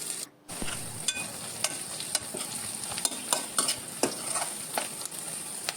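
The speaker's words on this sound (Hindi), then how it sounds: "इधर मैं हल्दी को चला लेती हूँ इस तरह से। इसे धीमी धीमी आंच पर इसी तरह से भूनना है।" Turmeric roasting in ghee on low heat, soft sizzling beneath repeated close scraping strokes of a spoon stirring the pan, the strokes sharp and irregular.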